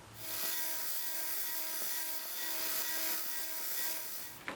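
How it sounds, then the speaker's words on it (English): A belt grinder fitted with a 120 grit belt sands the blades of an Imperial Kamp King pocket knife, giving a steady, close abrasive rasp with a faint motor hum that runs unbroken for several seconds, no talking. "I started off with a 120 grit belt on the blades."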